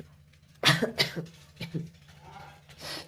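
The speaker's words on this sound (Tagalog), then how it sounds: "Ang hirap pigilan ng ubo" A person coughs several times in quick bursts, close to the mic, followed by a softer cough after a short pause.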